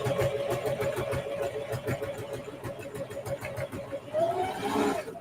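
A sewing machine runs steadily while stitching straight quilting lines down a quilted zipper pouch, a fast even mechanical whir with a pitch shift near the end as the pace changes.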